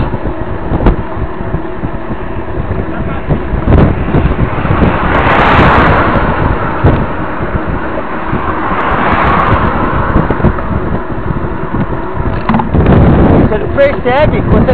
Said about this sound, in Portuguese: Você viu que é o vento contra?